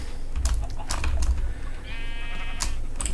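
Minecraft sheep bleat while wool is gathered: short game bleats over a steady bed of keyboard clicks and low rumble, with a thin electronic whine near the end.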